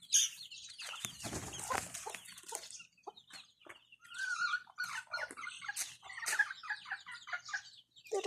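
Chickens at a coop cluck and squawk close by, with roosters and hens calling irregularly, wings flapping in a burst early on, and a dog barking among them.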